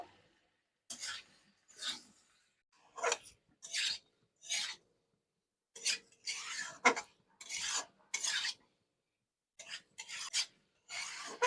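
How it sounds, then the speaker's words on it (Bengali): Vegetables being mixed with turmeric powder and salt in a pan for a vegetarian summer-vegetable dish, heard as repeated scraping and rasping strokes in separate bursts with short pauses between them, close and clear. "হলুদ গুঁড়ো দিয়ে দেব সব কিছু খুব ভালো করে মিক্সড করে নেবো"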